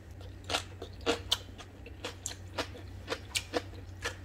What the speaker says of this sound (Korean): 콩나물 와삭와삭 씹히는 소리가 들리죠?